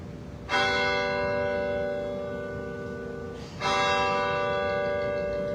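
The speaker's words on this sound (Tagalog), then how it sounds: "pinatunog din ng Manila Cathedral ang kampana sa loob ng 13 minuto bilang pag-alala sa mga taong pamumuno sa simbahan ni Papa Francisco" The bells of Manila Cathedral tolling in mourning for Pope Francis, two rich resonant strikes a few seconds apart, each hanging in a long ringing decay.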